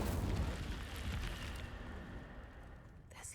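Incendio fire spell cast in Hogwarts Legacy: a loud, dense whooshing burst of flame that roars at the start and fades away over a few seconds, with no one talking.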